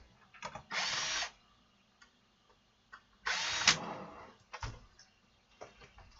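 A power drill backs the exterior screws out of a Soundigital 12,000-watt car amplifier in two loud, sustained whirring bursts, each about half a second, plus a shorter burst and small clicks and handling knocks between them, with no talking.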